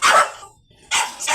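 Bulldogs barking, two loud close bursts of barks separated by a short pause.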